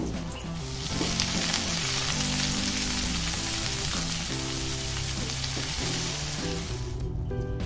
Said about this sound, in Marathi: त्यामध्ये आता मी भाजी टाकून घेणार आहे.